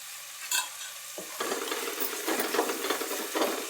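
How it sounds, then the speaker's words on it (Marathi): Onion sautéing in hot oil with tomato and curry leaves for khichdi, a steady close sizzle with scraping stirring strokes and a brief clink near the start, no voices. "कांदा परततोय आपला"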